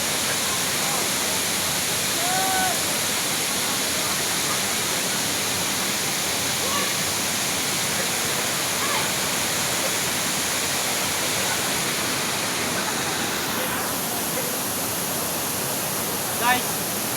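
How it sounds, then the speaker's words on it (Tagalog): Hagimit Falls waterfall pours with a steady, dense roar of rushing water that holds unbroken throughout, with faint voices occasionally beneath it. "Hagimit Falls"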